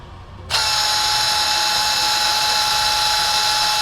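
A Milwaukee Gen 3 stubby impact wrench, model FIW2F12, starts up after a short quiet moment and runs at a steady high-pitched whine, loud and close, until the end.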